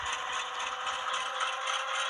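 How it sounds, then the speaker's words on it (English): A steady whirring, rattling mechanical drone with a bright buzzing tone holds constant and close: the dynamic brake sound effect of a ScaleTrains SP AC4400CW model locomotive, running without pause. "So you can hear the dynamic brakes going."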